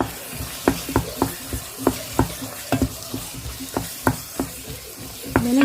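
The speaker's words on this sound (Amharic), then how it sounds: "አሁን የተቀቀለ ባቄላውን ጨምራለን" Boiled fava beans are stirred in a sizzling frying pan, with a steady low fry and repeated sharp scrapes of the spoon close by.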